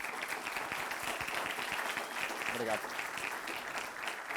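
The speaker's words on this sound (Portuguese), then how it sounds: "Pedi uma salva de palmas, por favor." Lecture audience applauding after an AI talk in a hall, dense steady clapping that fills the whole stretch, with a host's brief spoken thanks over it.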